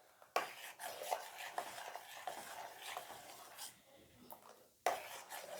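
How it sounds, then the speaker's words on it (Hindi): A spoon stirs a cooling mixture in a pot while masala dosa is being made, with soft, repeated scraping strokes at close range, a slightly louder clatter near the start and again near the end. "इस तरह से चलाऊंगी इसको बराबर।"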